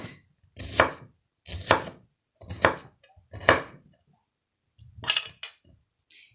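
A knife slicing vegetables on a cutting board for a beef stir fry, five crisp chopping strokes at a steady pace with short pauses between them, close and clear with no talk.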